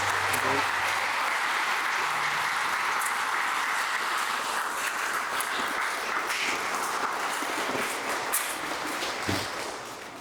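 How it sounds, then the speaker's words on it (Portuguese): Applause at a church wedding ceremony for a newly married couple, a full room clapping steadily for about ten seconds with light voices mixed in, gradually tapering. "nós queremos saudá-los com uma salva de palmas"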